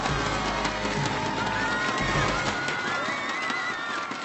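An audience applauds the winner at the StarLeague final awards ceremony, with broad, continuous clapping filling the arena, thick and loud throughout, while music plays underneath.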